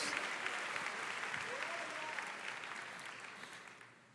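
A church congregation at a worship conference bursts into sustained applause, a thick crowd of clapping mixed with scattered voices and cheers, slowly fading toward the end.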